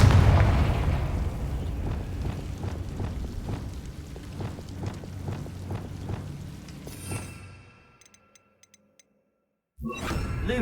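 Rapid series of booming magical blasts from the Confringo spell in Hogwarts Legacy, a dozen rhythmic thumps with crackling tails that fade out into near silence before a brief burst returns at the end.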